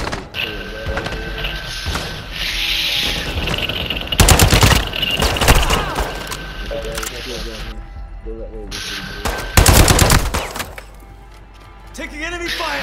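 Enemy gunfire rattles in the video game DMZ, with bursts of automatic fire and heavy close shots landing in two loud volleys amid ongoing combat noise and people talking over it.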